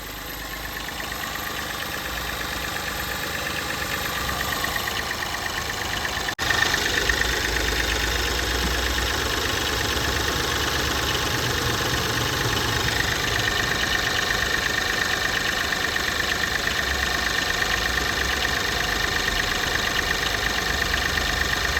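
Mahindra Bolero Neo diesel engine with a clogged DPF idling steadily up close, a continuous low rumble with a faint knock that holds level throughout and gets a touch louder after a brief click partway in.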